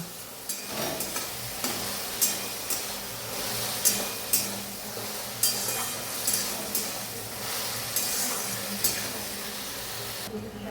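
Slit green chillies stir-fried with salt and tomato in a village kitchen pan, a steady sizzle under a spoon scraping and stirring in repeated strokes, close and moderately loud.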